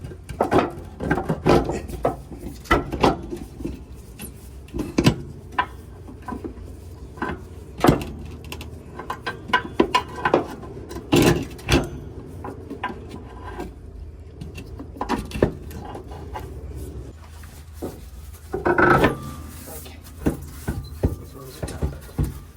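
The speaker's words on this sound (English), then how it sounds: "We can start prying this airbag." A worker pries an airbag off a 53-foot utility trailer with a tool, producing irregular clunks, scrapes and metallic knocks at close range over a low background rumble.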